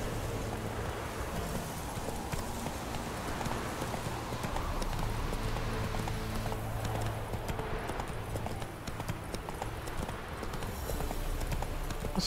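Horse hooves clip-clop steadily and fairly close as a horse is ridden in the video game Witcher 3, with no talking over them.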